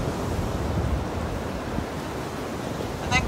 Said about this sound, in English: maybe pay attention to the ebb and flow of the waves